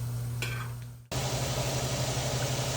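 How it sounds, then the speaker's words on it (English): Onions and peppers sauté in a pot, a steady broad sizzle that cuts out briefly then returns louder and closer, with a low hum running underneath. "So let's get these onions and peppers sauteed."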